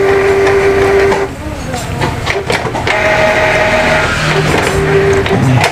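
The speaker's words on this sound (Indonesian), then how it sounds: "Kita tunggu ya, printernya lagi ngelining." A Canon iP2770 inkjet printer that feeds paper crookedly whirs and clicks through a manual test print, its steady mechanical hum running throughout with brief tonal whines, while a person talks nearby.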